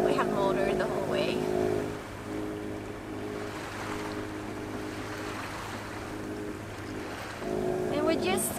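A sailboat motoring under engine power drones with a steady low hum beneath wind and water rush, while voices talk over it near the start and end.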